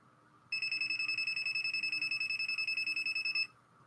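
An old, rusty Fisher-style 2P metal detector powers up with a steady, loud electronic beep tone lasting about three seconds, pulsing slightly, then cutting off to quiet room background.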